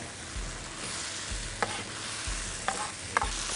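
Stir-frying marian plum with shrimp in a hot pan, a steady sizzle broken by several scraping stirs of the spatula, close up with no voices.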